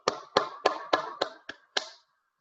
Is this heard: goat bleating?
no